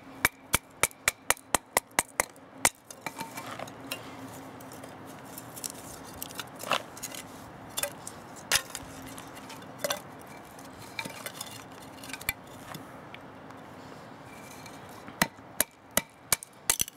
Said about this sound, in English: I'm not really getting any shock in the handle doing this hammering on the blade.